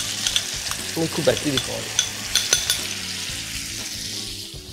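A rice cream mixture is poured into a hot pan and stirred, giving a steady, close sizzle with scraping and clinks of a utensil. Brief speech is heard partway through.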